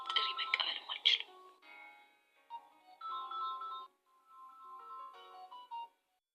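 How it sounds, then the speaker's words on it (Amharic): A phone ringtone plays as a melodic electronic tune in bursts, with a brief speaking voice at the start, then moderately loud tonal phrases repeating before stopping. "የስራ ስልክ ነው መሰለኝ ላንሳው"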